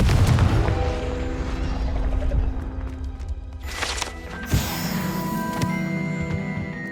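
A Confringo fire spell blasts in Hogwarts Legacy on PS5, giving a sharp, punchy boom around the middle of the clip. It sits over a continuous bed of game ambience and music, with smaller impacts following.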